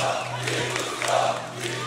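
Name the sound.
esports event crowd cheering, DreamHack Bucharest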